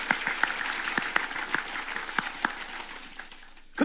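A church congregation breaks into applause, a dense spread of hand claps that is fairly loud at first, then thins and fades over a few seconds.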